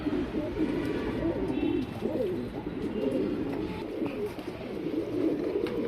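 Old Mojwal-line pigeons cooing steadily and close by, a continuous layered murmur of soft throaty coos with no talking.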